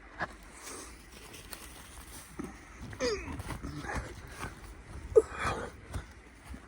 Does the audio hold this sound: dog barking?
yes